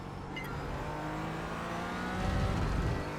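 A race car engine in the iRacing sim drones at steady revs, then a downshift into second gear brings a rising, rougher engine surge near the end. The sound is moderately loud and continuous, with no talk.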